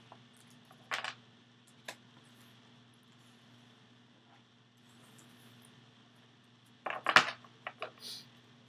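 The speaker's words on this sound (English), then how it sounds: "so I'm going to reshuffle" Tarot cards being reshuffled make a few sparse, faint riffles and taps, a short burst early and a busier cluster of card flicks near the end, over a quiet electrical hum.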